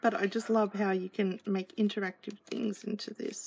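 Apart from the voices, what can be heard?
No everyday noise stands out behind the speech.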